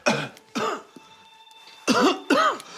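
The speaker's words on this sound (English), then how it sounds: "Can you cough?" Several short coughs come in two pairs, separated by a quiet pause where a faint electronic tone hums in the background.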